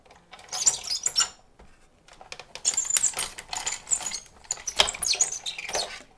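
A Big Shot die-cutting machine runs paper through to cut out snowflake shapes, giving close, loud bursts of crackling, rattling mechanical noise with a short pause partway through.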